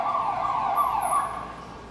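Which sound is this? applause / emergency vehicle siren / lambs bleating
emergency vehicle siren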